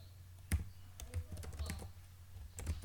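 Soft, close typing on a computer keyboard, a loose sequence of separate key taps with short pauses, alone in a quiet room.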